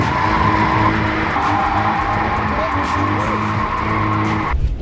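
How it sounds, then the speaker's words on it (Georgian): A BMW Compact drifting, its tires skidding and squealing loudly over a droning engine, sustained for several seconds before cutting off abruptly. "დღეს ვეცდებით რომ დრიფტი ვასწავლოთ აი ამ BMW კომპაქტით"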